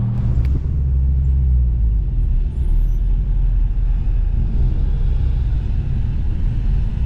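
A Honda Fit runs on a race track among faster cars, a loud continuous engine and road rumble filling the cabin with steady low drone and no break in the noise.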